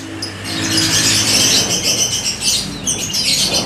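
Lovebirds in a bird shop chirp in dense high twittering bursts, with wing flapping and fluttering, close and busy.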